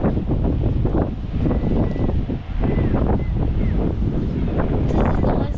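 Strong gusts buffet the microphone outdoors by the sea, a loud continuous low rumble with brief dips, waves faintly beneath.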